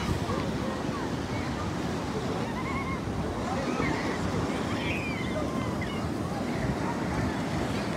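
Jet ski heading out to sea off Ain Diab beach in Casablanca, its motor lost in steady surf, wind buffeting and sloshing water throughout, with no clear engine note standing apart.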